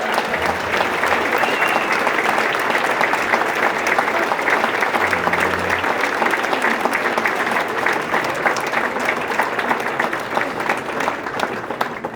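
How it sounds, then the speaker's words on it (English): Sustained audience applause at the New York City St. Patrick's Day Parade as a sash is presented, a loud, dense, even wall of clapping lasting the whole stretch with no talk over it. "Give her a nice round of applause, guys."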